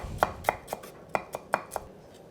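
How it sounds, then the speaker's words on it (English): A knife chops ginger into matchsticks on a board for peanut butter chili oil noodles, with about seven crisp, close cuts coming in an uneven rhythm. "I'm gonna finally sort of matchstick up the ginger"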